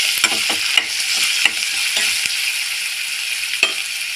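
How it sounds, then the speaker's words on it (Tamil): Chopped onions sautéing in a pan for a soybean curry gravy, a steady bright sizzle broken by several sharp scraping clicks of stirring, close and clear with no talking. "வெங்காயம் 1 நிமிஷம் நல்லா வதங்கட்டும் சார்"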